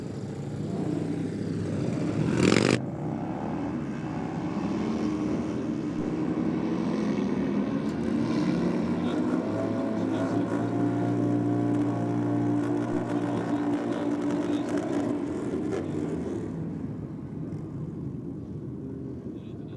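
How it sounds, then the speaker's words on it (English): Harley-Davidson motorcycle at a drag strip launching against a rival bike, a loud, sustained engine roar with a sharp burst near the start, carrying steadily then fading toward the end. "got the Harley down here in the Aeroflow lane"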